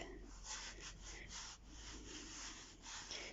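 Fingers rub gently over stamped paper, a soft, close, continuous brushing with faint rasping strokes.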